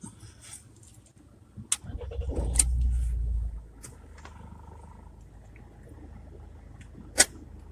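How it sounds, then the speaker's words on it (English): A Rover 75's engine cranks and catches with a short low rumble, then settles to a quiet idle, with a few sharp clicks before and after. "We're now going to turn the engine over"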